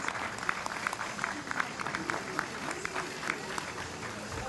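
Scattered applause in a party's election watch room on the night of South Korea's 2020 general election, crowd noise steady and moderate rather than vigorous, with sporadic sharper claps and a faint murmur of voices underneath.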